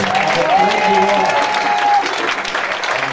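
A church congregation at a lively Sunday praise service applauds and cheers, dense continuous clapping and voices filling the room at a steady loud level, with a sustained tone running under the first two seconds.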